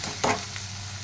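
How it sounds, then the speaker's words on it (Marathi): Onion sautés in a pan with a low continuous sizzle and a single brief stirring scrape near the start. "छान परतून घ्यायचा आहे कांदा"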